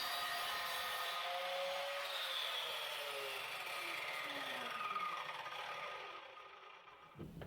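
A power saw cuts through a wooden stretcher set at an angle for a small table build, a loud steady whine with the pitch sweeping as the blade moves through the wood, then winding down at the end.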